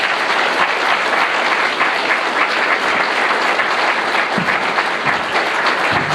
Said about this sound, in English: we should all have a great big round of applause